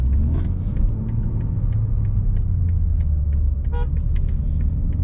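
Car horn in New York City traffic, heard from inside a manual BMW M2: a steady low engine and road rumble fills the cabin, and a short, fairly distant horn toot sounds once near the end.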